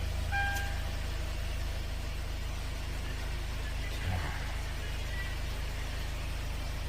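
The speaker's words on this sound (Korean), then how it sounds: "버튼 시동은 똑같이 브레이크 밟고 2초간 누르게 되고요" A 2018 Hyundai Grand Starex van engine started by push button, settling into a steady low idle rumble, with a brief starter surge partway through and no speech.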